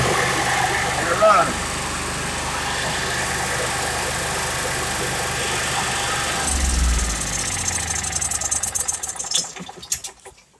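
A generator runs steadily in a 2021 Georgetown 36K7 RV while the fuel pump primes it, a close, even engine drone with a thump near the start and a swell around the middle before it breaks into faster pulsing and fades out.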